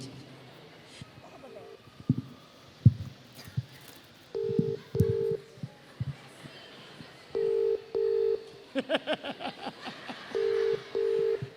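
A phone dials a call, with a run of short steady keypad tones in clusters and a burst of rapid beeps, fairly close, over faint background chatter and room noise at a fan event.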